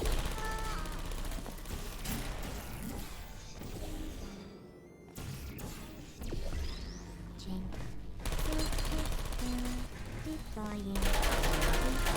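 Rapid bursts of automated turret gunfire in Portal 2, loud and sustained over several seconds with brief pauses, mixed with mechanical clanks and game background sound.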